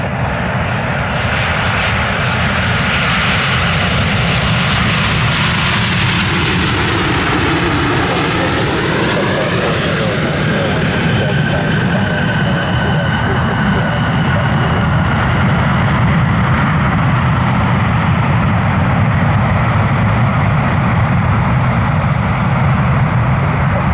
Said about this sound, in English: Southwest 1102 inbound from MCO. That's Orlando International. 737-700.